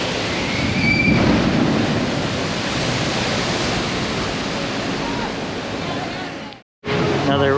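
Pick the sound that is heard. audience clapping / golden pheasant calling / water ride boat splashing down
water ride boat splashing down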